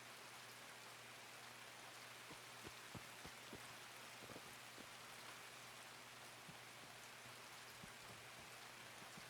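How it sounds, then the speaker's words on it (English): Heavy rain falls in the shooter game Escape from Tarkov, a quiet, constant patter with scattered louder drops and a low steady hum beneath, no talking. "This is the heaviest rain I've been in a while."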